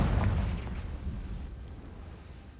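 A Confringo blasting spell explodes in the Hogwarts Legacy video game with one heavy boom that rumbles and slowly fades away.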